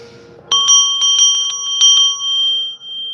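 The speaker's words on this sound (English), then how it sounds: "I'm gonna hit the bell." A small bell is struck several times in quick succession, bright ringing tones layered and sustaining, then left to ring out alone near the microphone.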